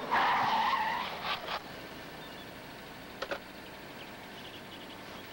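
A car brakes hard and its tires skid and squeal loudly to a stop, fading into quieter ambience with a couple of faint clicks afterward.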